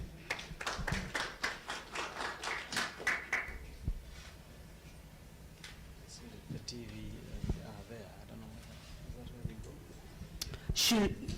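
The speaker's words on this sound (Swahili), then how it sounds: "tumpigie makofi" An audience at an event for victims of torture claps in a burst of rhythmic applause that fades after a few seconds, followed by scattered taps and faint voices.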